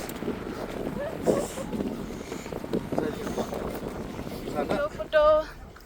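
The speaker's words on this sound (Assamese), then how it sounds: "ইমান ধুনীয়া বতাহ দিছে, কি বতাহ দিছে।" Strong wind gusts buffet the microphone at a cold, snowy mountain pass at 15,200 feet, a steady roaring rumble with people talking over it.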